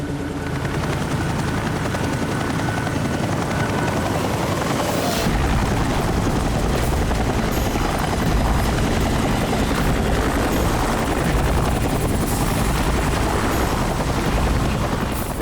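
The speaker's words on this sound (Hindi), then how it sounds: "ये हेलीकॉप्टर इतना नीचे क्यों उड़ रहा?" A loud helicopter roars continuously with dense rotor noise, close and steady throughout, with no voices.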